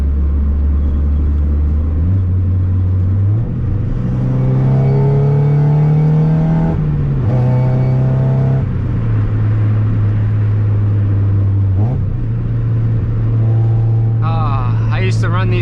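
A Mazda NA Miata engine revs hard under acceleration, its pitch climbing in steps through the gears as it pulls close and loud, with a steady rumble between shifts.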